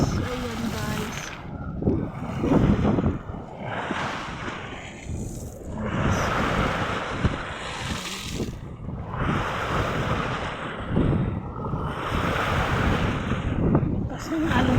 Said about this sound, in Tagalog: Lakas ng alon guys. Malakas talaga yung alon guys.